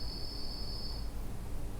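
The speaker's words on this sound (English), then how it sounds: "We've got a bird whistle," Bird whistle effect on the Ritz Cinema Barnsley Wurlitzer theatre organ: a steady high whistle tone holds for about a second over a low background rumble, then stops.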